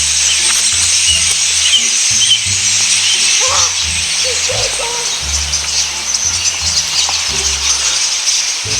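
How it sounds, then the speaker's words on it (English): Birds call from woodland trees, with short high chirps and tweets scattered over a steady hiss of insect-like background noise and low hooting tones nearby. "There's a lot of birds in these here trees."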